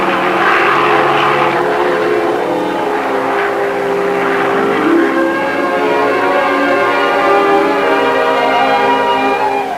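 Propeller-driven surveying aircraft from 1951, likely piston engines, droning steadily and loudly throughout with a strong harmonic hum and no voices.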